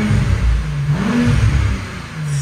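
A Porsche Panamera engine revs up close, a deep, loud growl that rises and falls in pitch over a couple of seconds.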